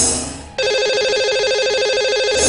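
A telephone rings loud and steady on a line as a call is placed to a radio show's caller, a continuous electronic ringing tone with no talk over it.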